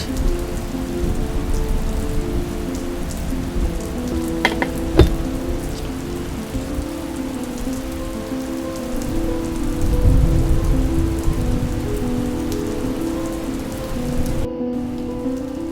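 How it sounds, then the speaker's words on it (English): Steady, heavy rain pours down in a dense wash of noise, with a brief sharper crackle partway through and the downpour continuing throughout. "the rain fell heavily to the ground"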